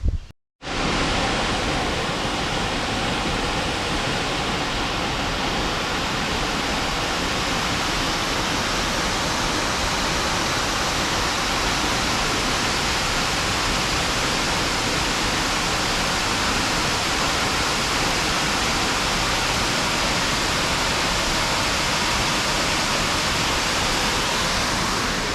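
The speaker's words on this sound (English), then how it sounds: "Minor Falls." Minor Falls waterfall in Michigan's Upper Peninsula, a loud, steady, broadband roar of rushing water that holds unchanged throughout, close and constant with no voices.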